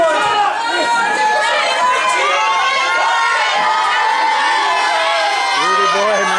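A wrestling crowd at a tag-team match cheers, shouts and whoops loudly and continuously, with children's yells and chatter mixed into the dense roar throughout.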